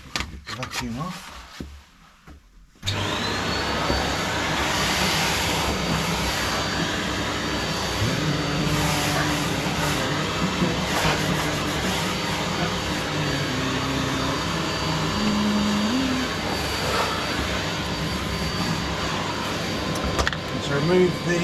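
A vacuum cleaner runs steadily and loudly after a short quiet start, cleaning out the firebox and top vermiculite baffle of a Nestor Martin wood stove, with a continuous roar and shifting suction tones as the nozzle moves.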